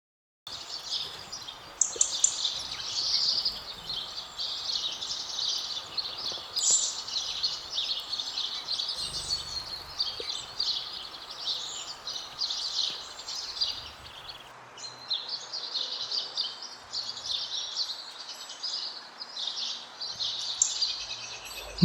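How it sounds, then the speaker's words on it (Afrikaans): House sparrows chirp in continuous, busy chatter, with many overlapping high calls over a soft, steady background hiss. "Mossie."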